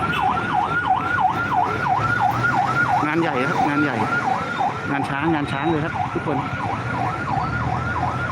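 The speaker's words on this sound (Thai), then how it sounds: "เทศบาลบ้านเทเข้ามานะครับรถดับเพลิงเห็นไหมครับ" Wailing fire engine sirens from municipal trucks arriving at a big fire in Thailand cycle steadily and loudly over traffic noise, while someone talks over them partway through.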